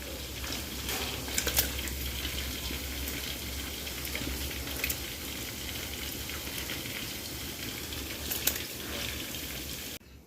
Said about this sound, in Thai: พอน้ำเดือดเราจะเห็นไขมันและ ฟองลอยเนี่ย